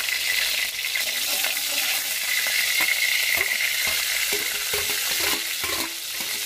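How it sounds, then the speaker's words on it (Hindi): Chopped garlic sizzles in hot ghee for a Veg Manchurian, a steady bright crackling fry with occasional stirring clicks, close and continuous without speech. "इसमें सबसे पहले हम डालेंगे लहसुन"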